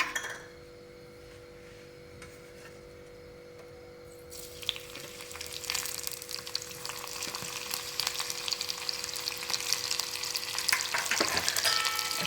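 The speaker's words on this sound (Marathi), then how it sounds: "आता तेल गरम झालं की याच्यात आपण सगळ्यात आधी मिरची टाकून घेऊया" Green chillies go into a spoonful of hot oil, starting a loud close sizzle that builds and keeps crackling steadily. Faint clinks of a utensil sound against the pan, and there is no talking.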